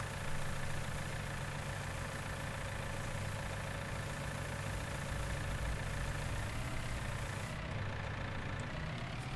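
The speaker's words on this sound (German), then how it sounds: "Jetzt können wir in den Motor starten." A tractor engine in the farming game Landwirtschafts-Simulator 19 runs at a steady idle, a continuous low droning hum that holds throughout at moderate loudness.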